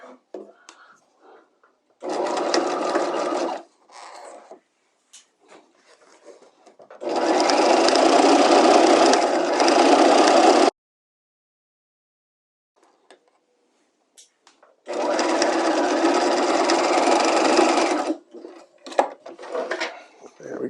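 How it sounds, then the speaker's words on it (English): A home sewing machine stitches a permanent half-inch seam with back tacks, running in three loud, close bursts of steady mechanical whirring separated by silent pauses, with brief handling clicks in between. "So let's go ahead and stitch up that seam."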